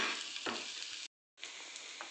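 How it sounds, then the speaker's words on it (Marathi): Green chillies frying in a pan make a soft, steady sizzle with faint stirring scrapes, broken by a short silent gap before the frying resumes. "आपली मिरची चांगली फ्राय झालेली आहे."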